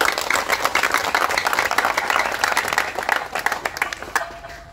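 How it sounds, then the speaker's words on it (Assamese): A crowd at a gathering demanding justice for Zubeen Garg breaks into loud, dense hand clapping that runs steadily for several seconds before cutting off abruptly near the end. "এটা হাত চাপৰি বজাব লাগে সকলো"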